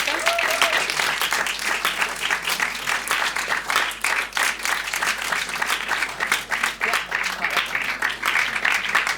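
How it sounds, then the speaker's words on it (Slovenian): An audience at a film festival studio gives a team warm, continuous applause, a loud and dense crackle of many hands clapping steadily for about nine seconds, with a faint voice near the start. "En lep aplavz za ekipo."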